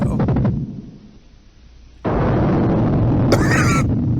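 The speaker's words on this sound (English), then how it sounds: "It almost sounded like an explosion, like time's up, like boom." Sudden explosion-like boom cuts in midway, a loud sustained broadband roar following a brief burst of speech and a quieter lull, with a crackling flare near the end.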